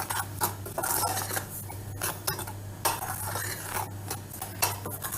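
Dry flour and starch mixture for a layered cake cream being stirred in a bowl: close, steady clinking and scraping of a utensil over a low constant hum.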